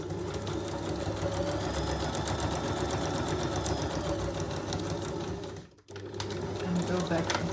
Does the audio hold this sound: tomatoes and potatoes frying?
no